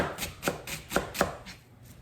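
Onion chopped on a cutting board with the back of a kitchen knife for chicken noodle soup, giving five or six crisp, evenly spaced thuds close by with no speech.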